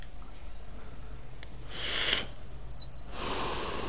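Two quick, breathy sniffs sound close to the microphone during a gaming session, separated by a short pause over a quiet background hum.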